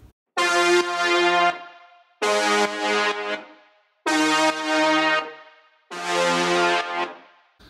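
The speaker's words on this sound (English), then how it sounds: "Now let's move on to the weird lead sound that blasts in every once in a while." Odd synth lead built from two detuned saw-wave layers in Serum, four bright buzzing stabs about a second and a half long, each followed by a short gap, loud and alone.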